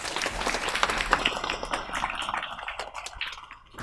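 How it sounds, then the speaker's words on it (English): Dense, steady audience applause fills a graduation day ceremony at a Sikh academy in Hayes, many hands clapping together at close range and tapering slightly toward the end. "A big round of applause, please, for Mr. Kandola."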